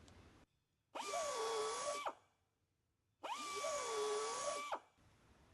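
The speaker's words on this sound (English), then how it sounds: "we'll go in there and we'll ream the injury out and remove the damage" Air-powered buffing tool spinning a carbide cutter to ream out damage in a tire injury, two whining bursts of about a second each with a rising then falling pitch, separated by quiet, close up with no talking.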